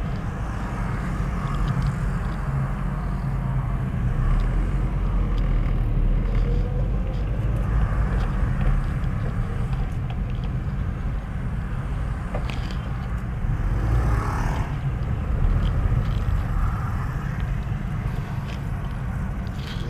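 Congested road traffic at a turn on a commute from home to the office, with a steady loud rumble of engines idling and creeping nearby, continuous throughout with occasional swells.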